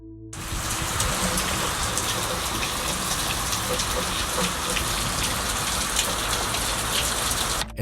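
Heavy rain pours steadily at night outside a house window, a dense, continuous hiss and patter that stays loud and unbroken throughout, with no voices.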